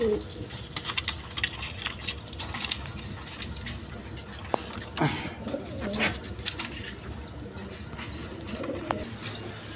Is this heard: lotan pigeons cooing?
yes